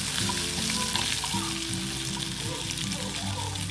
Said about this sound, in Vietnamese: chúng ta chiên cho nó vàng cái lớp lớp da